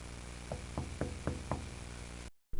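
Five evenly spaced knocks on a bedroom window at night, firm and fairly close over a steady background hum, followed by a brief cut to silence.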